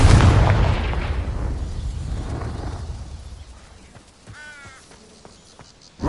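A Confringo explosion spell in Hogwarts Legacy bursts loudly at the start, its rumbling blast decaying over several seconds into quieter game ambience, with a brief crackling flourish near the end.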